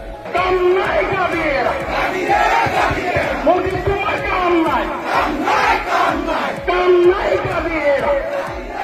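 Large crowd of student protesters chanting in unison at a mass rally in Tinsukia town, Assam, rhythmic shouted slogans rising and falling continuously, loud and close, with dense overlapping voices throughout.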